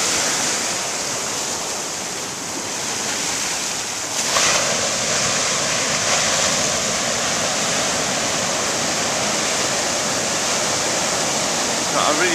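Ocean waves washing over a rocky shore with no sand at Burro Arroyo beach in Santa Barbara, California, at dawn as the tide goes out: a loud, continuous roar of surf and hiss, with a fresh surge swelling partway through.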